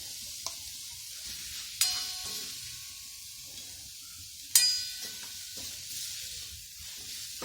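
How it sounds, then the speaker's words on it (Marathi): Masala for chicken masala sizzles softly in a pan, a steady frying hiss broken by a few sharp clinks and scrapes of stirring. "असा फ्राय करून घ्यायचा। आता आपला मसाला फ्राय झाला आहे।"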